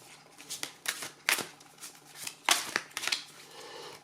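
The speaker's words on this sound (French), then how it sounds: "Donc, mélanger mes cartes." A deck of oracle cards is shuffled by hand close up. Several quick riffling bursts and soft card slaps come in an irregular rhythm in a quiet room.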